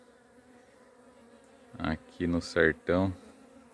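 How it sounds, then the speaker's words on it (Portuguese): Bees collecting pollen from corn tassels in a cornfield in the Sertão give a steady, close buzzing throughout, and someone speaks briefly over it. "As abelhas colhendo pólen"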